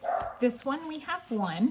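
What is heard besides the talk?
dog barking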